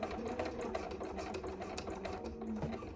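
A sewing machine runs steadily, stitching a line across the top of an elastic waist skirt, its rapid mechanical hum continuous and close with no pauses or talk.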